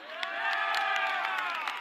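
A rugby crowd at Baptist Health Community Field cheers and applauds in a continuous roar, with whoops and shouts rising from the stands over a commentator's voice.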